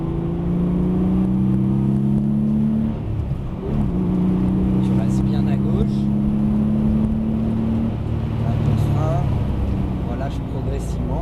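Car on a circuit during a driving course, engine revving steadily under acceleration, up and down in pitch, loud and close, with an instructor talking over it.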